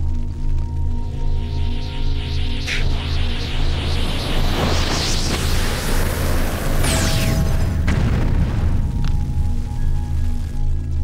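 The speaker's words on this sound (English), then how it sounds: "Now, rise up, and release the firestorm within you." Spyro the dragon unleashing a fire fury firestorm in The Legend of Spyro: The Eternal Night, a sustained roaring blast of flame with booming bursts and a sweeping whoosh over a steady game music bed, no talking.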